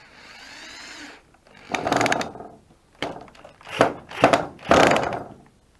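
Power driver whirring in short loud bursts as screws go into the wood of a sofa bed platform, with four or five separate runs and brief pauses between them.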